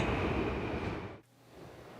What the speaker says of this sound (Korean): 검단산행 열차가 들어오고 있습니다.